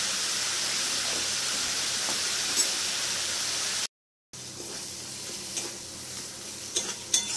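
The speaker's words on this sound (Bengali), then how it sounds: "মশলাটা ভালোভাবে কষে নিয়েছি" Chilli powder, turmeric and cumin-coriander powder sauté in a pan for a rohu fish curry, giving a steady close sizzle with scraping stir strokes, a brief silent break midway, then the frying resumes.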